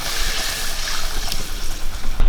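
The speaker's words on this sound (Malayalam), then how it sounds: "ഇനി ആവശ്യത്തിനുള്ള വെള്ളം കൂടെ ഒഴിച്ചു കൊടുക്കാം" Water poured steadily into a pot of Kanthari rasam after tamarind water, a continuous close splashing rush lasting a couple of seconds.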